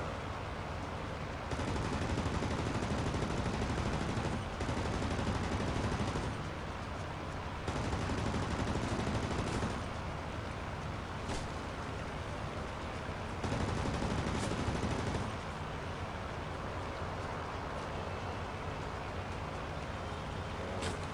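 Tail gunner machine gun fire from the World of Warplanes aircraft game, heard as several sustained bursts of loud rattling fire, each lasting a few seconds, with a steady engine drone beneath them.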